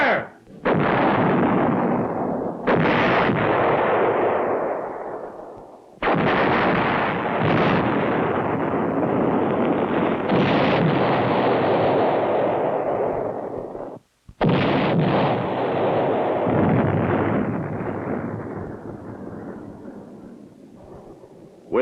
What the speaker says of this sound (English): pre-planned fire at position Alpha Charlie on my mark